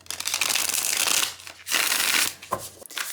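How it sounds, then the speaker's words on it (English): Tarot cards are shuffled in quick riffling bursts, a few close crisp rustles separated by short pauses. "let's give it a quick shuffle"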